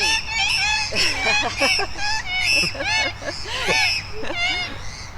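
Loud honking and squawking calls from several birds overlap in rapid, repeated bursts, close by and continuous.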